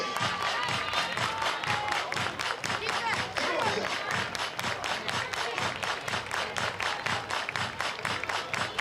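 A crowd at a college softball game claps in steady unison beats, mixed with cheering and shouts, loud and continuous throughout.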